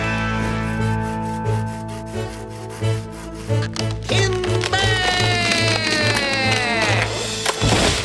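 A cartoon sawing effect of trees being cut for logs: rhythmic back-and-forth wooden rasping strokes over a sustained musical backing, ending in a quick rush of cascading, splintering noise.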